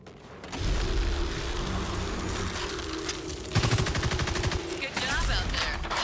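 Rapid gunfire from the video game Evolve, a dense roar of repeated shots running nearly the whole time, with a sharper, louder burst of fire partway through.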